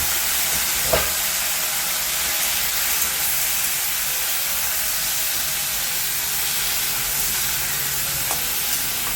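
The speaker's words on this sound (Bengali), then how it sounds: "কড়াইটা গরম হয়ে গেছে, এবার পাঁচফোড়ন দিয়ে দিচ্ছি। এবার দিয়ে দেবো কচুগুলোকে।" Taro chunks and five-spice (panch phoron) frying in a hot pan, giving a steady, loud broadband sizzle and hiss through the whole stretch with a couple of faint utensil knocks and no talking.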